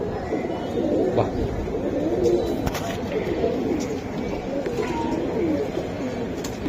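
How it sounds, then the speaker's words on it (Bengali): Silver Giribaz pigeons in a busy bird market, soft repeated cooing blended with crowd murmur and scattered clatter, the cooing partly buried under the background noise. "এটা সারাসারি উড়াউড়ি করার জন্য সুন্দর একটা কবুতর ভাই"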